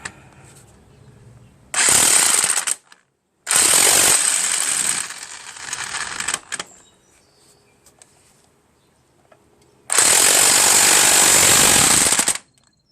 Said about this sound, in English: And now I just need to tighten that main crankshaft bolt.